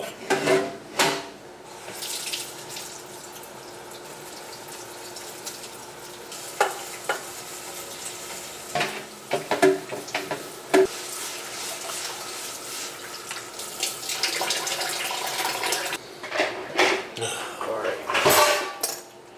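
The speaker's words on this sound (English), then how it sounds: "might as well wash the dishes while I'm at it" Dishes washed at a kitchen sink under a running tap, with steady water flow, clattering pots, clinking cutlery and stirring sounds, fairly close and busier toward the end.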